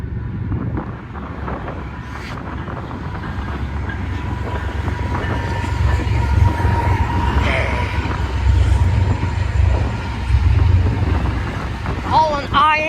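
A Union Pacific freight train hauling intermodal shipping containers rolls past a depot in Cozad, Nebraska, with a steady low rumble, rhythmic clickety-clack of wheels and some wind buffeting the microphone.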